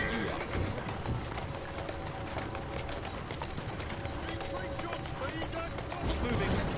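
Horse hooves clip-clopping at a run in the Assassin's Creed Syndicate video game, a steady busy patter under game ambience and occasional voices, with bird-like chirps and a faint whinny.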